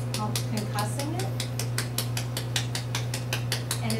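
A spray bottle of cleaner mixed with essential oil is shaken hard, giving a fast, steady series of sharp rattling sloshes over a constant low electrical hum.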